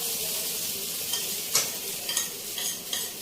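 Soaked sago pearls stirred in a hot pan, a bright steady sizzle with several sharp scraping stirs of a stick against the pan, close and alone.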